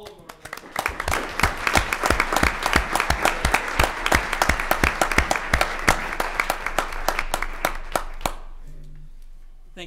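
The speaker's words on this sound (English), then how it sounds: "can we have a round of applause for all of our" Applause from the audience at a school board meeting, a steady run of distinct close hand claps that continues for about nine seconds, then stops abruptly and leaves a quiet room.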